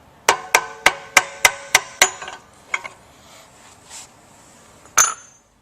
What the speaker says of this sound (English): And you might have to give this one a little tap.